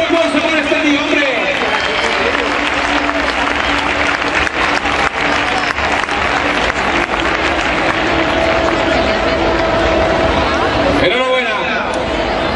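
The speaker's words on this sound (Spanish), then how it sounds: "¡Fuerte aplauso para este día, hombre!" Sustained applause and crowd chatter fill a prize-giving ceremony for race finishers, with steady dense clapping throughout, a hubbub of voices underneath and a brief louder burst near the end.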